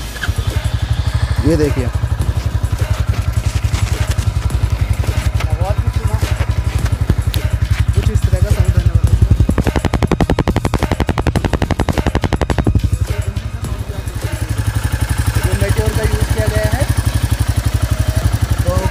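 A Royal Enfield Classic 350 motorcycle engine starts and settles into a loud, steady thumping idle close by, its rapid even beat running throughout while someone talks over it.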